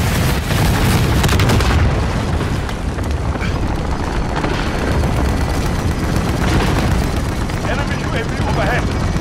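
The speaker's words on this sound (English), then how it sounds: "Enemy cluster strike incoming." Enemy cluster strike explosions in Call of Duty Modern Warfare, a dense continuous barrage of booms and blasts, loud and close, with a heavy rumbling wash of gunfire and debris throughout.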